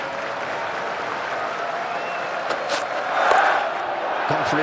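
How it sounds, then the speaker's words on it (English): A large cricket crowd at Lord's during an England v Australia Test keeps up a steady murmur and applause, swelling briefly, with a commentator's voice over it. "Response from the crowd."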